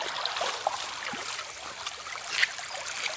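Clean water flows in a small stream, a steady close trickle and hiss with faint splashes.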